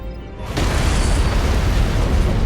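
An antimatter charge explodes in Halo CE Anniversary, a sudden heavy boom that jumps in after a brief quiet lead-in, then becomes a loud, sustained rumbling roar that fills the rest of the moment.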